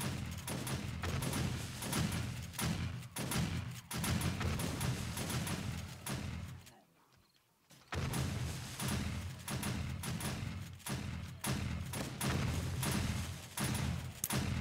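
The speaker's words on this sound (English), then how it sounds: "fire a good many more exploding crossbow bolts this horde" Exploding crossbow bolts fired into a zombie horde during a Horde Day in 7 Days to Die, heard as dense, continuous bursts of blasts and thuds with a brief lull midway, then the barrage resumes loudly.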